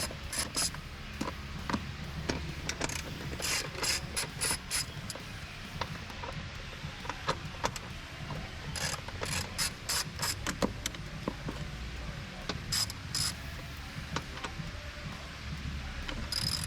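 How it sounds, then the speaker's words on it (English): Ratchet loosening the bolts that hold the power steering reservoir and fuse box on a Toyota Land Cruiser 300 Series 3.3-litre twin turbo, with rapid clicking bursts repeating close up over a low background hum. "removing the 3 bolts that hold down the power steering reservoir and the 2 bolts holding down the fuse box"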